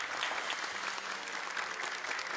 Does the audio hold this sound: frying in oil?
no